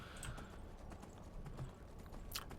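A horse gallops in the Skyrim video game, its hooves making quick, rhythmic clip-clops. The hoofbeats are quiet and even, with faint game ambience behind them.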